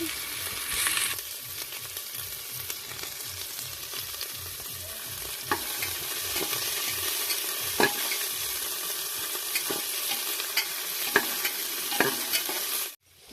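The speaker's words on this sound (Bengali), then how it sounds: "পেঁয়াজগুলো 1 থেকে 2 মিনিট ভাজলে লাল লাল হয়ে যাবে" Chopped onions sizzle steadily in a hot pan for a chicken stew, with a spoon or spatula scraping and stirring at irregular intervals, no voices.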